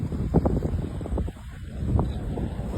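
A boat rides the strong current at a five-river mouth in the Sundarbans near the Bay of Bengal, with gusty wind buffeting the microphone over rushing water and engine rumble.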